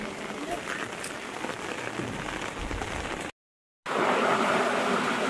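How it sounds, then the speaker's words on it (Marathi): Heavy monsoon rain in Mumbai pouring steadily as a dense, continuous hiss, close and fairly loud, broken by a brief cut of silence before it resumes. "पण बऱ्यापैकी पडतोय आता"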